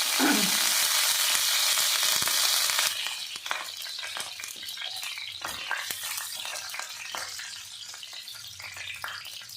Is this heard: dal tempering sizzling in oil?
yes